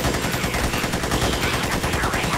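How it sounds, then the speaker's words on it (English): Rapid continuous gunfire in the game Magicka, a dense machine-gun-like rattle that is loud and steady throughout, with no speech. "Okay guys, stop shooting at me."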